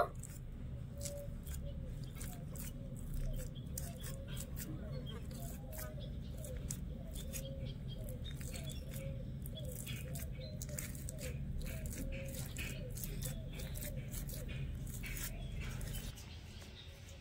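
Boiled sweet potato being mashed by hand in a bowl for pitha, a soft, steady squishing and pattering that continues for about sixteen seconds, close and fairly quiet, with no talk.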